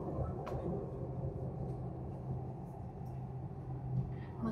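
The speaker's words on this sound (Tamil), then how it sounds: "இப்போ மெட்ரோல போயிட்டு இருக்கோம்." Low, steady rumble inside a moving metro train, with a continuous rolling drone, faint rattles and occasional soft clicks from the carriage.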